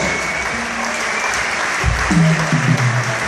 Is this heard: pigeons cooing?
no